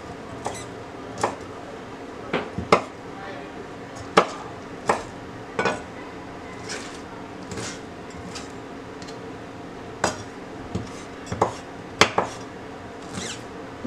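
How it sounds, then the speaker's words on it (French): Knife chopping rehydrated, swollen ingredients into small pieces on a board for pastilla, a series of sharp, irregular taps spaced a second or two apart, close and moderately loud, with no talk. "Donc on va les couper en petits morceaux."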